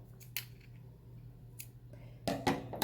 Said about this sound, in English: Tie it in another knot. And then cut off the excess.